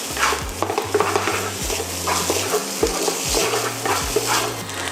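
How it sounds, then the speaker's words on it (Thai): A spatula scrapes and stirs fried rice with salt and pepper in a hot pan for basil beef fried rice. Steady sizzling runs underneath as rhythmic clattering strokes repeat, close and clear, with background music playing. "พริกไทย ผัดให้เข้ากันเลยค่ะ"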